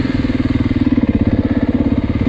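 A 2024 Beta 390 RR four-stroke single-cylinder dirt bike idles close by, loud and steady, its low pulsing beat repeating quickly and evenly with no voices.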